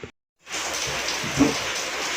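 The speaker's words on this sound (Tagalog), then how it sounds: "Ayan, maulan na naman. Biglang umulan" Sudden rain falling steadily as an even hiss of drops, starting after a brief silence and continuing close and moderately loud with no voices.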